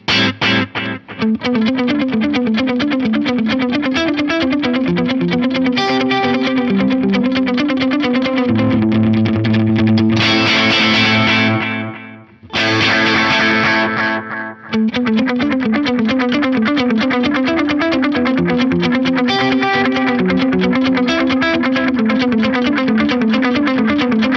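Overdriven electric guitar through a Boss DM-2 analog delay pedal plays continuous chords and melodic lines with a smeared, repeating echo trailing the notes, briefly dropping out midway.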